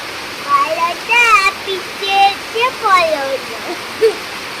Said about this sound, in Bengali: এই দেখো কি জোরে ঝড় উঠেছে